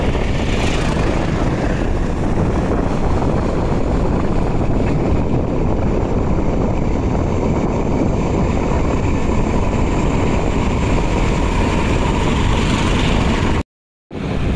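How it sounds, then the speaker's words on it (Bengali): The passenger launch MV Kajal 7 passes Postogola Bridge with its engine sending out a loud, steady drone that fills the whole stretch before cutting off briefly near the end. "এমভি কাজল 7 বেশ দুর্দান্ত গতিতে দেখতে পাচ্ছি পোস্তগোলা ব্রিজ অতিক্রম করছে"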